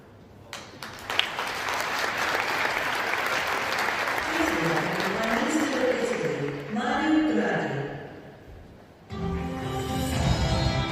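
Sustained applause from a large audience at a climate change conference marks the end of a speech, steady and dense for most of the stretch, briefly dipping before rising again near the close, with voices audible over the clapping.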